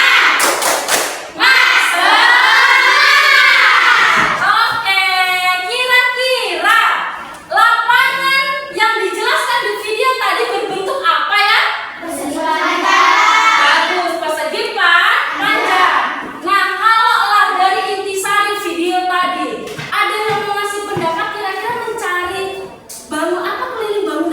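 A fifth-grade elementary class performs a rhythmic clapping chant, with loud group voices chanting in patterns and claps and thumps marking the beat throughout.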